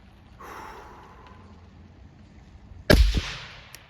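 One loud, sharp rifle shot from a 300 BLK home defense rifle fitted with a binary trigger cracks out and rings off briefly, following a few seconds of quiet outdoor hiss.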